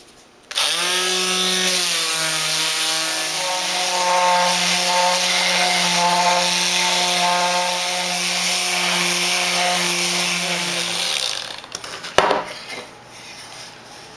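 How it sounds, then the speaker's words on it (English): A small Black & Decker mouse sander fitted with 80-grit paper runs loud and steady along wooden edges for about ten seconds, then cuts off, followed by a few handling knocks. "Got my little Black & Decker mouth sander with a 80 grit."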